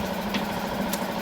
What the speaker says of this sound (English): So the outboard's warming up,